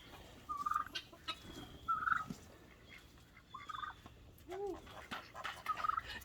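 Turkey on a farm gobbling in several short bursts spread across a few seconds, moderately close, with faint farmyard background and brief bits of voice around it.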